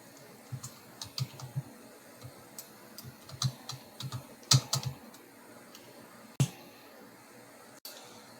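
Bursts of keyboard typing, irregular clusters of light clicks and taps with pauses between, fairly close against a quiet room.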